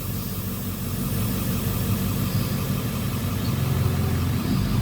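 A tractor-trailer truck's diesel engine idles steadily up close, a low, even rumble holding for several seconds with no talking.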